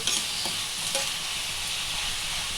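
Onions frying in a pan for a broad bean curry, a steady close hiss of sizzling oil with a few faint stirring scrapes, heard alone throughout.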